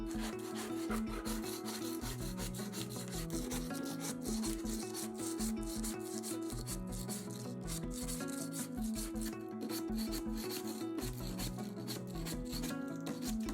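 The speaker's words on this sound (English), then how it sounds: "scraping off all the excess glue from the floor joints, so we had a flat surface for our internal wall to sit on" A scraper rubs steadily across wooden floor joints, clearing away excess glue in continuous strokes, with a steady tonal backdrop running underneath throughout.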